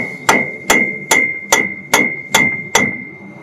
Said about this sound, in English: You just want to tap on this hub from the back side